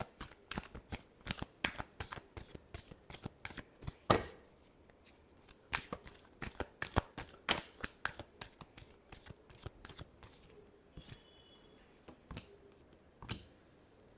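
Tarot cards being shuffled in a steady run of crisp riffling bursts and soft slaps, close and clear, with brief pauses between passes.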